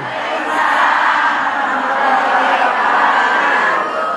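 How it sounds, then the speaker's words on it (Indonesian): A studio audience at an Islamic television program applauds and cheers in a steady, dense wash of crowd noise that holds loud for several seconds with no speech over it. "tepuk tangan dong buat Ihsan"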